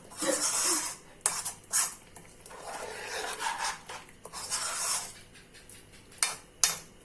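A tasting spoon stirs suki dipping sauce made with fermented tofu in a small bowl, producing close, steady scraping and clinking against the dish with a few sharper taps, no voices.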